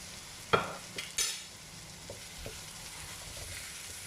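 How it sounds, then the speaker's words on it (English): Half a tomato dropped into a sizzling vegetarian ramen stir-fry, a sharp splat followed by a burst of hiss, then a quieter steady frying sizzle with a few light utensil taps, close up and without speech. "Now I add in half a tomato."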